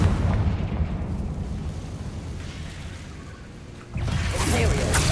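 A Confringo fire-blast spell in Hogwarts Legacy gives a rumbling explosive burst that decays into a low roar, followed by a sharper second blast near the end, with combat noise throughout.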